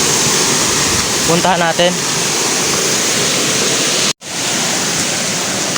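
A flooded river rushes past in a loud, steady roar of churning water that fills the whole scene, with someone speaking briefly over it early on and a momentary dropout partway through.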